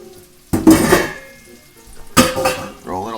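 Blanched broccoli tipped into a bowl in a home kitchen, two clattering dumps of vegetables against the bowl about a second and a half apart, close and fairly loud, followed by a brief voice.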